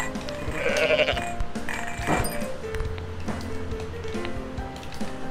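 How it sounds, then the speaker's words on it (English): A goat in the I am Bread video game bleats repeatedly, loud and near, over game sounds and thumps, with no talk. "Oh no, goat!"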